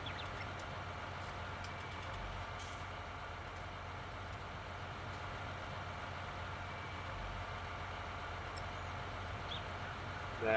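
Tractor engine in Farming Simulator 19, a steady low idling drone that runs the whole time, faint and unchanging, with no voices.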